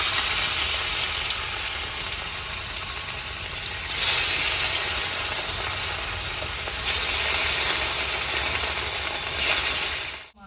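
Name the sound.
rohu fish frying in hot mustard oil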